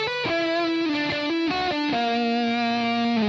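Electric guitar through an amplifier with heavy distortion, a short close phrase of several thick sustained notes ending on a long held note, loud and alone.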